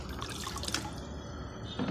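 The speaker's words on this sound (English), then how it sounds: "Transfer the water one bucket to other bucket." Water is poured from one bucket into another during a children's summer play activity, giving a continuous close splashing trickle with a stronger splash near the end.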